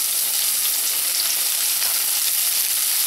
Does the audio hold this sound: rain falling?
no